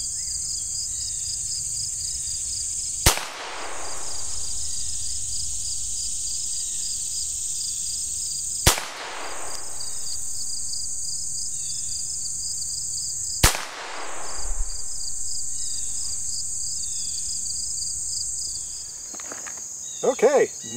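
Ruger Standard .22 pistol fired at a target 20 feet away, three sharp isolated shots spaced several seconds apart over a constant outdoor insect drone, with a brief mechanical clatter near the end.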